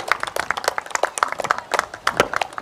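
A crowd at a live Ramlila stage performance claps in scattered, sharp, distinct hand claps that come in uneven bursts, close and fairly clear, without a steady rhythm.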